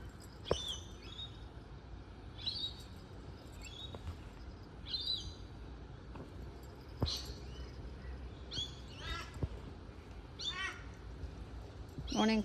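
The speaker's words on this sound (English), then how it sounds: "Morning, crow." Crows cawing outdoors on a rainy morning, a series of harsh calls repeating at irregular intervals, moderately near, over steady background hiss.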